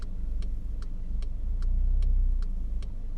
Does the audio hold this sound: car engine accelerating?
yes